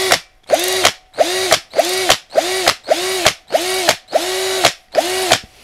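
Topshak TS-ED3 cordless brushed drill driver driving a large 6x55 screw with a PZ3 bit, eight evenly spaced bursts of whirring motor in short pulses, close and loud with silent gaps between.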